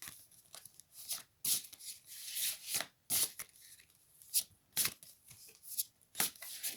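Tarot cards are shuffled by hand in quick, soft riffling bursts, close and fairly quiet, with short pauses between each pass.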